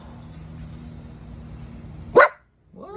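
A dog near a river park gives one sharp, loud bark after a stretch of quiet background hum, followed by a short whine.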